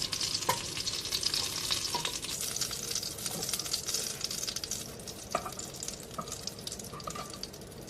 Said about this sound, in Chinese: 油热了，放入几片生姜和虾头